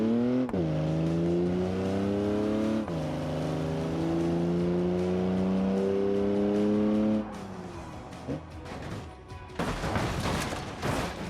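A simulated car in BeamNG runs at a steady high engine drone, revs up sharply twice, then brakes hard with scraping and rough noise as it slows, loud and close.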